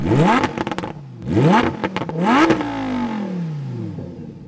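A Lamborghini Huracan Evo with a 640-horsepower engine fires up and revs at a track, three loud rising blips in a row followed by a long falling wind-down, close and with no voices.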